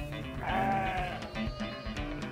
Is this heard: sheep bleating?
yes